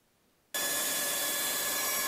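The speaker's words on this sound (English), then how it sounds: "So now to the bandsaw," Bandsaw cutting out a knife handle blank for a DIY knife kit, starting abruptly after a short quiet moment and running as a loud, steady, close whine and rasp.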